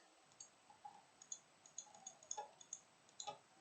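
Rapid mouse clicking during a Scratch whack-a-mole game, a quick irregular run of faint, sharp clicks close by in a quiet room.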